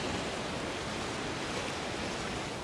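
Rough ocean surf off the Mozambique coast during a fishing trip, a steady broadband roar of waves and current filling the whole stretch without pause, loud and close, with no voices.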